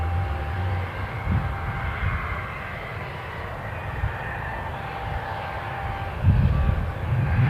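A Jet2 Boeing 737 airliner at Newcastle airport gives off a steady, broad engine roar with a low rumble that swells slightly near the end, heard from a distance with no talk.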